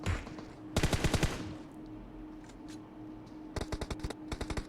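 Rapid bursts of automatic gunfire in a PUBG Mobile match, one long volley near the start and several shorter clattering bursts toward the end, separated by a quieter stretch with a steady low hum.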